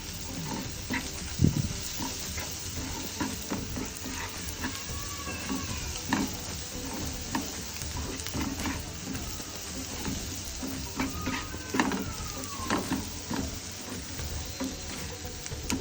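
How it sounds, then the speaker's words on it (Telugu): Garlic and egg mixture with turmeric being stirred as it fries in a pan, with a steady soft sizzle and repeated scraping and clinking stirs close up, no talking. "పసుపు కూడా వేసుకున్న తర్వాత మొత్తం మరొకసారి ఈ మిశ్రమం మొత్తం కలిసిపోయే విధంగా కలుపుకోవాలి."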